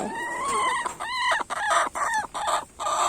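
Several hens cluck and squawk up close while waiting their turn to lay eggs in nest boxes, loud overlapping calls in short bursts with brief pauses between.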